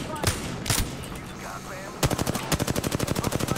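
Automatic weapon fire in the video game Apex Legends, a few sharp shots, a short pause, then a fast evenly spaced burst of rounds, loud and close, with a player talking briefly before it.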